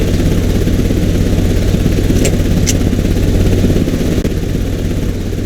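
A car engine idles steadily in the Sherlock Holmes: Crimes and Punishments game, a loud constant low rumble with a faint high whine, no voices.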